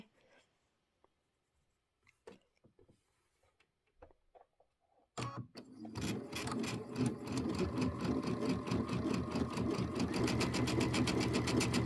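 A Luminaire sewing machine runs straight stitch 103 on pieced quilt blocks, starting after a few faint clicks and handling noises, then whirring steadily and close for the rest of the stretch.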